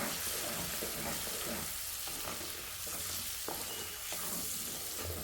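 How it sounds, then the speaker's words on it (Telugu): Ginger garlic paste frying in hot oil for chicken pickle, a steady close sizzle with occasional stirring scrapes of a utensil in the pan. "ఈ జింజర్ గార్లిక్ పేస్ట్ కొంచెం రెడ్గా వేగేంత వరకు వేపుకున్నాం"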